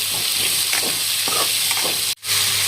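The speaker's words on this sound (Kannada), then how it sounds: "ಈಗ ಇವೆರಡು ಸ್ವಲ್ಪ ಕೆಂಪ ಒಂಥರ ಸರಿಯಾಗಿ ಫ್ರೈ ಮಾಡ್ಕೊಳ್ಳೋಣ್ರಿ" Chopped onion and tomato fry in a pan for a restaurant-style matar paneer, a continuous close sizzle with soft stirring scrapes and one brief break near the end.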